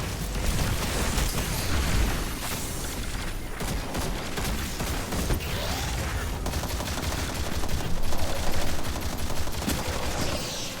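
Dense, continuous automatic fire from a light machine gun in Destiny, with rapid overlapping shots and explosive bursts filling the whole stretch at a steady, loud level.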